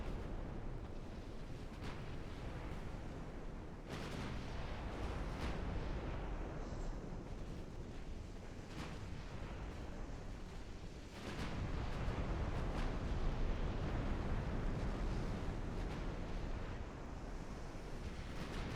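Naval guns fire and shells strike warships in the Ultimate Admiral: Dreadnoughts game, heard as a continuous roar of sea and battle rumble punctuated by several sharp booming impacts, one especially heavy blast partway through.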